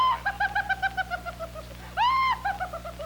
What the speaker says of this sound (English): She's a kookaburra bird. She doesn't sing like some birds. She laughs all the time.